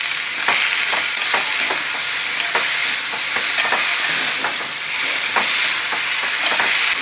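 Green tomatoes and chillies fry in oil, giving a loud, steady, close sizzle with regular soft scraping taps from stirring throughout.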